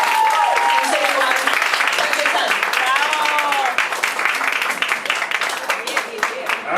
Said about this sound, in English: Everybody, give her a huge round of applause.